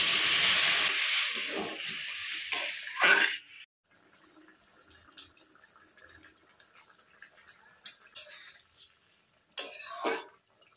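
A loud hiss and sizzle as water goes into simmering curry in a pan, then a quieter bubbling stretch with faint clinks and scrapes, and a short burst of stirring noise near the end.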